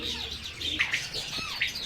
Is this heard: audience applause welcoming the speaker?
no